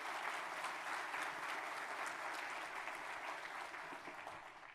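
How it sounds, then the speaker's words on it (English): An audience gives faculty a round of applause: steady, dense clapping from a large room that holds evenly at moderate distance, then begins to taper. "Give our faculty one more round of applause."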